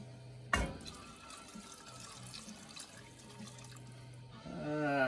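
Water poured into a pot of smoked brisket beef stew with carrots and potatoes, a sudden splash then a soft continuous pouring trickle for several seconds, ending as a voice begins to speak.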